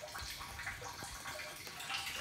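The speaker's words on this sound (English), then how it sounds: "I know we're filled up because I can hear water going into the tank here." Rainwater pouring steadily into a rainwater-harvesting storage tank, a continuous hollow splashing and trickling rush close by with no talk over it.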